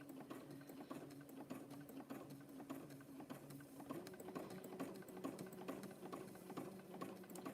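A sewing machine zigzag-stitches over rope to make a 4 inch rope coaster, running slowly in a steady rapid needle patter, faint and continuous throughout.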